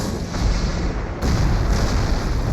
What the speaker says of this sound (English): The heavy artillery clears the Germans